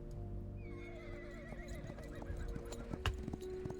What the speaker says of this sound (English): The horse answers with a loud neigh.